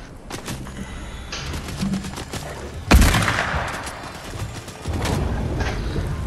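Rifle gunfire in Fortnite, with rapid bursts of shots, a loud heavy blast near the middle and more dense firing that continues to the end.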